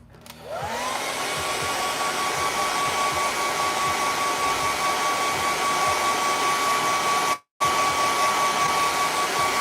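A hair dryer switches on and whirs at a steady high-pitched whine while drying paint on a painting, loud and close, with a brief dropout near the end.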